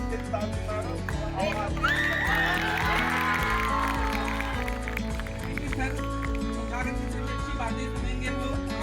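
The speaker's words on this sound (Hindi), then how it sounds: "जोरदार तालियां सर के लिए।" Loud applause and cheering fill a school hall at a Class 10 farewell as a teacher is honored, dense clapping running the whole stretch beneath an announcer's amplified voice and background music.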